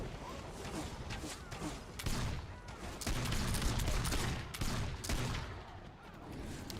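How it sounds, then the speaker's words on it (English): A siege mortar firing in a video game, with repeated distant thumping blasts and crackling gunfire in an ongoing battle, moderately loud and irregular in rhythm. "So little damage on this mortar."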